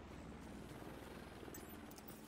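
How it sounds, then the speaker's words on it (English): A hostile drone hovers in the video game The Division 2, a faint, steady whirring drone running throughout, with soft battle noise underneath. "Hostile drone in the air."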